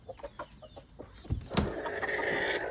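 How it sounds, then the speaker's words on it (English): Broody hens clucking nearby in short repeated calls, with rustling and shuffling movement building up in the background. "Four broody hens, of course."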